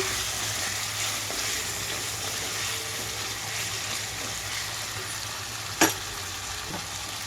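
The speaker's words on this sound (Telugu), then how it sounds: "ఇలా 2-3 నిమిషాల పాటు హై ఫ్లేమ్లోనే ఉంచి వేయించుకోండి" Chicken pieces frying over a high flame, giving a steady, even broadband sizzle throughout, with a single brief clink of the stirring spoon near the end and no talking.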